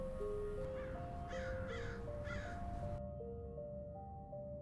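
Three harsh caws from a crow ring out in quick succession over a steady background tone, followed by quiet.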